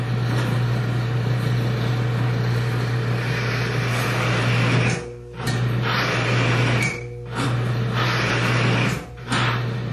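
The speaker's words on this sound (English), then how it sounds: "Friction causes extreme noise as the additive breaks down and the friction becomes so severe that the drive motor just stops." Drive motor of a bearing test machine grinding under heavy friction as an oil additive breaks down, a loud steady hum and rasp with a few abrupt dips as the load bites.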